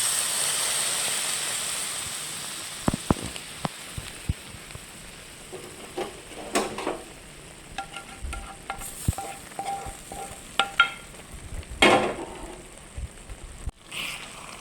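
Mutton chops curry stirred in a sizzling pan, a gentle steady hiss under irregular scraping and clinking spoon strokes against the pan, close and moderately loud.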